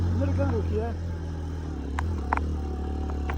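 Motorbike crawling in first gear on a rough Nepali mountain road, a low steady engine drone close by with scattered clatter and scraping from the bike, and brief rider talk near the start.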